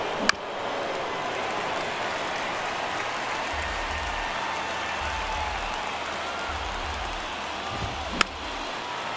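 Baseball video game crowd, a steady wash of cheering and murmur filling the background with two sharp cracks standing out, low rumbling swells underneath.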